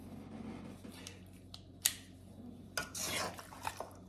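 Marinated pork ribs are tossed and mixed by hand before going into an air fryer, with quiet wet squelches and a few sharp clicks and clatters of a bowl or utensil, close and intermittent, no voices.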